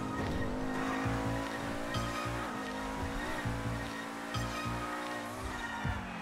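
A fast sports car driven in GTA 5 roars steadily at high revs, with repeated tire squeals and short skids as it corners, loud and continuous.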